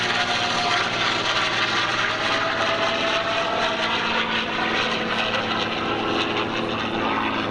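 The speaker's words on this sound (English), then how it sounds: "And here comes the P-51." A P-51 propeller warplane drones past with a loud, steady engine roar that stays strong throughout and shifts slightly in pitch as it moves.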